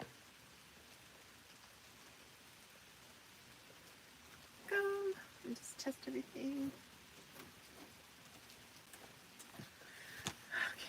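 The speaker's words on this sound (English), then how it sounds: "Okay, it started raining" Rain falls steadily in a forest, a soft constant hiss under a person talking briefly nearby, with a few sharp handling knocks.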